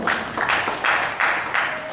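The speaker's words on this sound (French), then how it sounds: "Tous vos applaudissements, et s'asseoir." An audience at a university law thesis defence claps in about five rhythmic bursts of unison clapping, loud and close, each burst separated by short dips.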